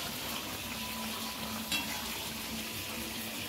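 Chicken frying in a pan gives a steady, close sizzle with a constant crackling hiss, a brief sharper pop about halfway through, and no voices.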